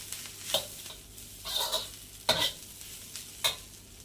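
A spoon stirs grated coconut and chopped coriander in a pan on the stove, giving a soft frying sizzle broken by four or five clear scraping strokes at an uneven pace, close and with no talk.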